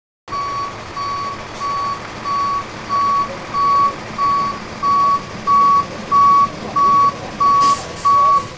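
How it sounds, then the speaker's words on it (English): A fish stocking truck delivering trout backs up with a steady series of loud, evenly spaced reversing beeps over its engine's low rumble, about a dozen beeps in a row. "when the truck pulls up, what do they do?"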